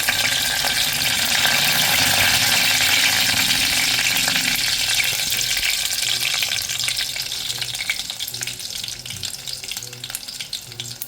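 Curry leaves and garlic hit hot oil over a medium gas flame while cooking mushroom masala, giving a loud, steady crackling sizzle that stays close and continuous and eases slightly toward the end.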